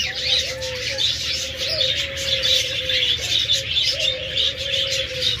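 Mixed aviary of budgerigars, cockatiels, doves and lovebirds calling together, with steady busy chirping and chattering over a low dove-like tone, continuous and fairly close with no talk.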